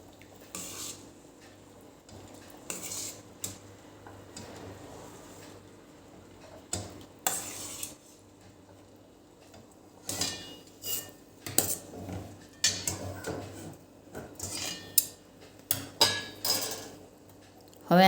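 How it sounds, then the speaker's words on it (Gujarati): A spoon presses cooked dried pigeon peas against the side of a pot of thick gravy. It gives scattered metallic clinks and scrapes, some in quick clusters and others spaced apart, with no talking. "થોડીક તુવેરને આપણે આવી રીતે ચમચાની મદદથી થોડી દબાવી દઈશું, જેથી આપણી ગ્રેવી ઘટ્ટ થાય।"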